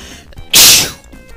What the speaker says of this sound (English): Oh, I'm gonna sneeze now,